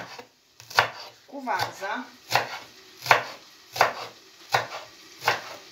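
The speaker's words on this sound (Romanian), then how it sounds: "iar acum voi toca și verdeața pe care o voi amesteca" Fresh greens being chopped with a knife on a board for a sweet cabbage dish with smoked meat, sharp regular cuts about twice a second, close and distinct, with a brief voice at the start.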